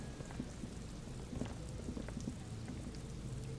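Steady rain in the video game Disco Elysium, a continuous soft hiss of falling drops with scattered patters, faint and even throughout with no voices.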